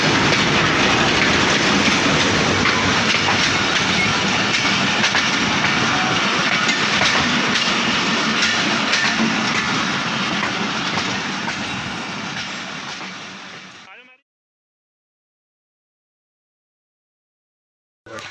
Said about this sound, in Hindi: हम ट्रेन के अंदर बैठ गए हैं